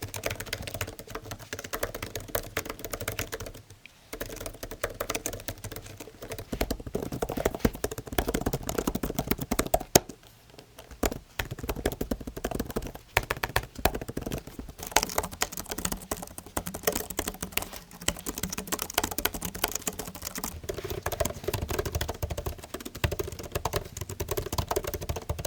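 Steady typing on a Microsoft Surface Laptop Studio keyboard with 1.3 mm key travel, a continuous run of soft, close key clicks and taps that keeps up for the whole stretch, with only a couple of brief pauses.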